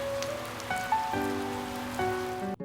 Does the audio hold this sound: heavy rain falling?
yes